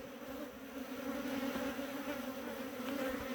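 Honey bees buzz steadily at an open beehive during an inspection, a dense, continuous drone of many insects close by with no talk over it.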